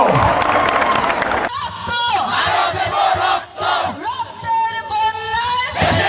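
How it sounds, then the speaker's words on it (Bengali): A crowd at an outdoor political rally in Munshiganj cheers and claps loudly, with voices shouting over steady applause; someone speaks through a loudspeaker at the start. "সকলে একটু জোরে করতালি দেয় তার জন্য।"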